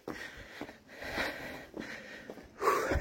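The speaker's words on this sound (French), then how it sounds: "Ah, je suis essoufflé, désolé." Heavy, out-of-breath panting after an uphill climb: close, ragged sniffing inhales and wheezy exhales in an uneven rhythm, with a louder gust of breath at the end.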